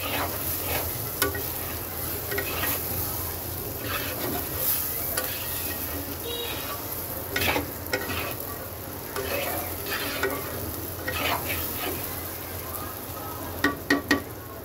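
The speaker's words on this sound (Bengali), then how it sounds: "মশলাটাকে তেলের মধ্যে একটু ভাজা ভাজা করব।" Spices fry in hot oil in a pan for a spicy pabda fish curry with potato and brinjal, a steady low sizzle broken by frequent scraping stirs and occasional sharper clinks of the spoon.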